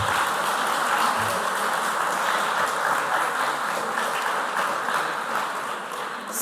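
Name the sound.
applause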